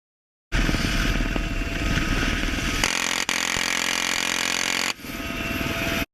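The Chopper Gunner helicopter from Call of Duty Mobile whirs with a steady, loud rotor drone and engine hum, holding constant with abrupt cuts and shifts partway through as gunfire-like clicks punctuate it.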